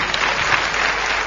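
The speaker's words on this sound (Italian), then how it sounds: "vorrei salutare con un caloroso applauso fatto da me, pubblico qua presente in sala" Loud, warm applause from a concert audience in a hall in Chile, a dense, even burst of many hands clapping close by, with no voices over it.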